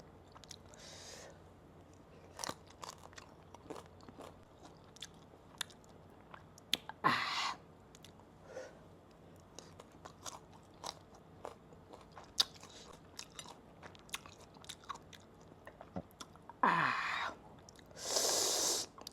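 Close, wet biting and chewing of a mango, with crunchy bites and soft mouth noises, a couple of louder bursts near the middle and end.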